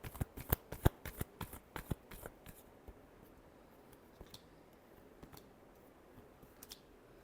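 Tarot cards riffle and snap in a quick rapid flurry of crisp clicks at first, then slow to sparse, scattered taps as the shuffle finishes.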